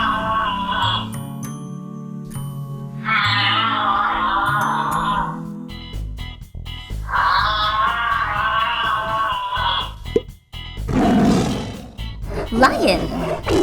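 A Playmobil toy lion from a Noah's Ark safari playset lets out repeated loud electronic roars alternating with bright tinkling jingles, close and prominent, in short bursts separated by brief gaps.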